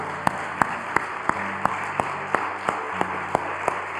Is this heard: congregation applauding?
yes